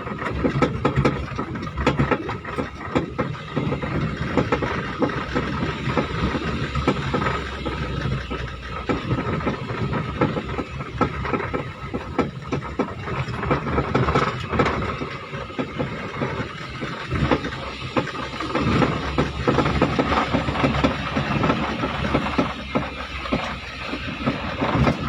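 A Multicab small utility truck runs on wood gas with a steady, close, rough engine rumble and rattle that continues throughout without a break, and no talking over it.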